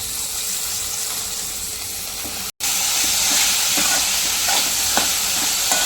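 Chopped spring onion greens stir-fried in a pan with spices, a loud continuous sizzle with scraping stirs, close up and steady apart from a brief cut.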